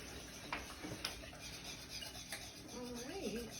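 Butter and sugar being stirred together by hand in a bowl for chocolate chip cookie dough, soft scraping and clinking of a utensil with a few sharper taps, fairly quiet and close.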